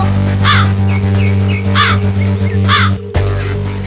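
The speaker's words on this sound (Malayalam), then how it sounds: "എന്റെ നെയ്യപ്പം കാക്ക തട്ടിപ്പറിച്ചു കൊണ്ടുപോയി" Crow in a children's animated story caws three times in a steady rhythm, loud and close over a steady background hum, with softer calls between.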